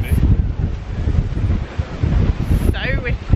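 Strong wind at a cruise port in Jamaica buffets the microphone, a loud steady roaring rush with gusty swells throughout.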